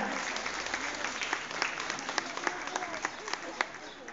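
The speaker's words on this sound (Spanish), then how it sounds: "Un fuerte aplauso para la señora." An audience claps at a primary school graduation ceremony, welcoming the municipal secretary. The applause is a steady, dense patter with sharper individual claps standing out, and a voice speaks over it.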